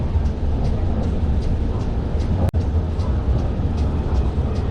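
HBLR light rail train rolling along its tracks, a steady close rumble with a faint repeating clatter and one sharp click about halfway through.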